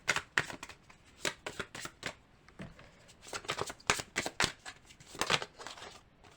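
Tarot cards are shuffled close by in rapid, uneven bursts of crisp riffling and slapping, with short pauses between handfuls and no talking.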